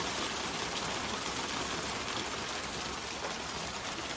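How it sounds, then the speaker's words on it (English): Hail pelting a moored sailboat in a marina slip at Port Townsend, heard as a dense, steady loud hiss of countless impacts with no pauses. "Currently hailing outside."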